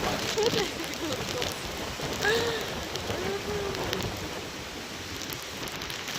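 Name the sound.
heavy rain and wind during typhoon Uwan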